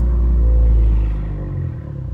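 A 2019–2020 Honda Accord Sport 1.5T with a loud aftermarket exhaust, heard from inside as a deep, heavy rumble that swells and then eases back slightly, continuous and close, with no talking.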